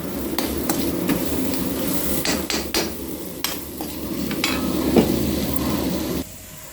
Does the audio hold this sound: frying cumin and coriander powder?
yes